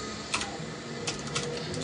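Someone types a URL on a computer keyboard, producing a few quick, light key clicks at close range over a steady background hiss, with no talking.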